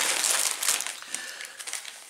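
A colourful, handmade gift bag crinkles and rustles steadily as it is handled up close, with a continuous crisp papery texture and no talking.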